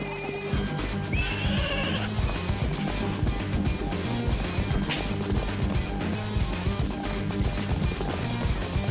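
Wild Brumby horses whinny over a rumble of galloping hooves and music as they are rounded up, the herd sounding busy and continuous throughout.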